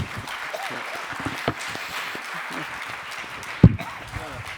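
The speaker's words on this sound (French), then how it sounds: "Nous avons donc applaudi" Applause rolls through the hall at a plenary session on politics and religion in the Middle East, a diffuse crowd clapping at moderate distance with a brief louder knock near the end.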